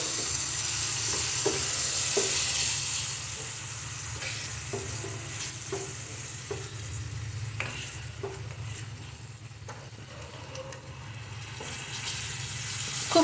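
Spice masala with tomato puree and whisked yogurt frying in a pan makes a continuous close sizzle, and repeated scraping strokes of a spoon stir through it at a slow, uneven rhythm.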